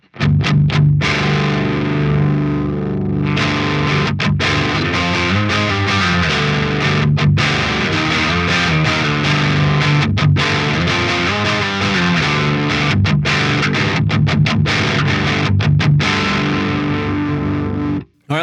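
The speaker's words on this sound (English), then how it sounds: "I'm gonna start turning up the Mr. Scary mod so we can see what this thing sounds like on just the standard JCM800" Heavily distorted electric guitar through a Marshall JCM800 amp with a Mr. Scary mod, playing loud, dense metal riffs continuously for the whole passage with brief choppy gaps, no talking.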